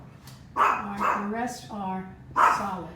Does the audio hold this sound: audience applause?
no